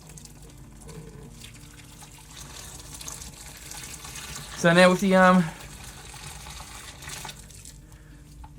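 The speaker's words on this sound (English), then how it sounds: "the rest of the hot water I'll put in on top of this" Hot water is poured into a fermenter while brewing Coopers Draught homebrew beer, producing a steady hissing splash throughout as someone talks over it.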